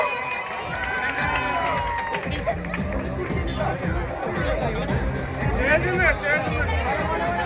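A crowd in Palakkad cheers for Gabri and Jasmin, a dense, continuous roar of shouts and chatter, with voices talking through the noise.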